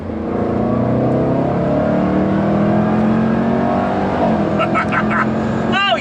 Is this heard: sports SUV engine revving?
yes